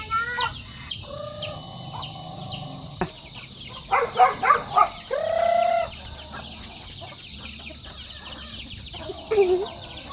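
Chickens and small chicks cluck and chirp in a rural provincial yard, with a run of sharp close clucks, a longer squawk and scattered peeps over quiet background.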